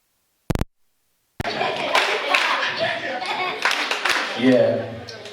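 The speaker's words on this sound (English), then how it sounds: "So when I say actually, I'm asking you to clap your hands." Children clap during a storytime call-and-response game, one sharp early clap followed by a burst of scattered clapping mixed with young voices and chatter.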